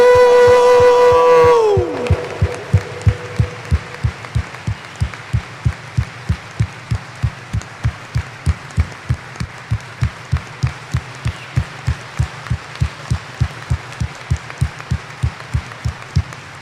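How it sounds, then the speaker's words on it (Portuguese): A church congregation at a Sunday Catholic Mass claps in steady unison for Jesus, a regular beat of sharp claps running for over a dozen seconds after a brief sustained musical tone fades out. "Dê uma salva de palmas para Jesus"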